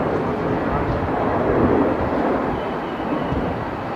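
Airbus A330 pushing back at Melbourne Airport, heard as a steady broadband jet roar mixed with heavy wind noise, continuous and fairly loud throughout.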